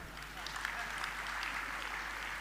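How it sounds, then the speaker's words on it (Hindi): Audience at a Jain religious camp gathering clapping together on request: a steady, moderately faint patter of many hands that continues without a break under the room's background hum. "एक बार तालियां तो बजा दो"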